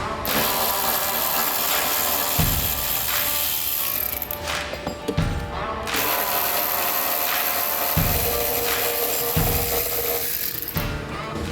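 Close, continuous ratcheting as a hand ratchet backs bolts out of a bedside rack panel on a 2024+ Ford Ranger, with repeated strokes and brief breaks and no voices.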